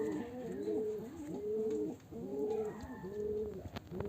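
A domestic pigeon at a home loft coos close by in steady repeated rounds of soft, throaty, rising-and-falling calls, with no talking.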